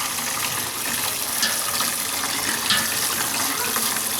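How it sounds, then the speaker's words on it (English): Hot tap water runs steadily over a kitchen strainer, a continuous, fairly loud hissing spray with no pauses, close up and alone. "just going to take your water and give this a good hot water rinse"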